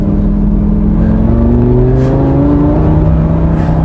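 A Lamborghini Gallardo climbs a mountain road, its engine loud and close as it accelerates. A smooth, rising whine builds steadily through several seconds with no talking.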